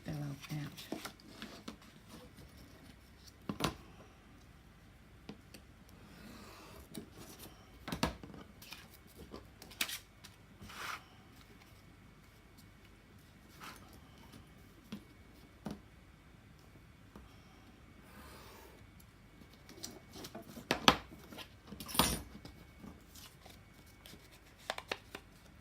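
Scissors snip through paper while a collage piece is cut out, giving scattered short crisp clicks and snips at an uneven pace, close and fairly quiet, with light handling rustle between cuts.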